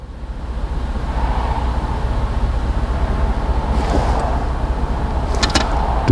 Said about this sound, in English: there is a car